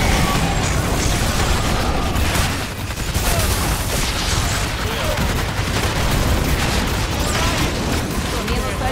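Dense, continuous bursts of explosions and gunfire in the video game Evolve Stage 2, loud and relentless with no pauses throughout.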